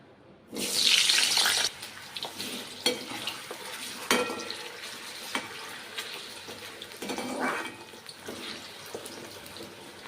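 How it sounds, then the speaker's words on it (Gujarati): Water draining off thinly sliced vegetables for a quick tiffin dish: a brief loud splashing pour, then scattered kitchen clatter and a quieter sizzle of oil in the background. "આપણે પાણી આમાંથી નિતારી લેવાનું છે"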